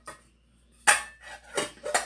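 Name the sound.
plate and frying pan from camping kit being handled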